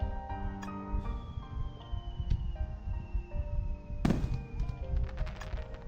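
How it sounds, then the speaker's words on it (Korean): Fireworks bursting during a festival in a visual novel video game, a string of muffled booms and crackles under a sustained musical tone, with one sharper, louder burst near the end. "폭죽이 피었다가 또다시 사라졌다."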